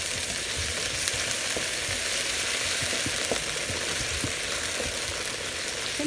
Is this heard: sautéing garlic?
yes